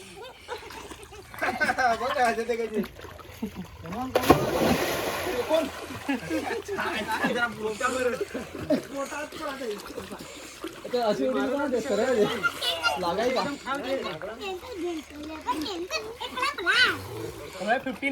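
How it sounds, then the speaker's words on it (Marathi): Village children bathe in a well during Diwali, splashing water in scattered bursts amid nearly constant excited chatter and laughter, with the splashes partly buried under the voices. "बघू शकता आता हेमू आमची पाण्यात आंघोळ करायला लागले."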